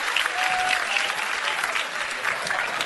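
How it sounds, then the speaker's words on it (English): Comedy club audience applauding at a stand-up show, a steady dense wash of clapping hands that fills the room for about three seconds, loud and close with faint crowd murmur underneath. "You notice only the women were clapping, huh?"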